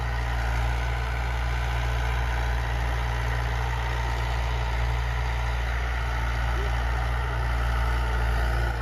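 A Mahindra 475 DI tractor engine runs at a steady idle, a loud, close, continuous low diesel rumble with no change in pace and no talk.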